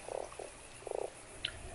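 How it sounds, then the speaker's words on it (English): A frog in the Fran Bow game croaks in a few short, buzzy bursts, a pair close together then a longer rattling croak, alone and fairly close, with a faint chirp afterward. "A frog."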